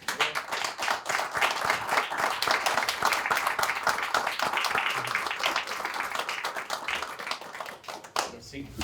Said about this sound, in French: Moi, je pense que ça mérite une bonne main d'applaudissement.